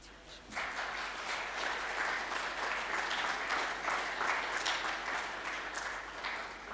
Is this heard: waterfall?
no